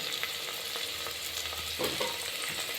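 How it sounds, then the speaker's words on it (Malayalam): Onions and tomatoes sauté in a pan for green peas curry, a steady close sizzle with soft stirring scrapes and a brief clatter near the end, no voices. "നന്നായിട്ടൊന്ന് വഴറ്റി കൊടുക്കാം ഉള്ളിയും തക്കാളിയെല്ലാം ഒന്ന് വാടി വന്നിട്ടുണ്ട്"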